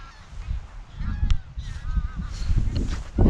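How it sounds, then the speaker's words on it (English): Geese honk repeatedly at a moderate distance, their calls overlapping against a low rumble of background noise. "Oh yeah, they're geese."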